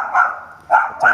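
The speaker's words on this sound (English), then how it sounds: "Dog." Dog barking a few times out on a neighborhood street in Brazil, short yappy barks at moderate distance, with a pause before two closer bursts.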